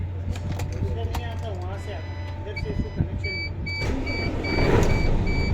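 A MAN truck's engine starts and idles to build air pressure for a new clutch booster, a steady low mechanical hum with faint beeps toward the end, while someone talks over it.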